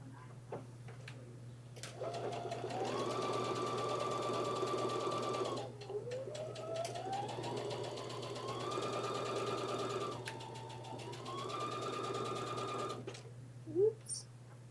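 A sewing machine stitches a tunic in steady, humming runs with rising and falling motor pitch, broken by short pauses between seams, with faint clicks and a brief sound near the end.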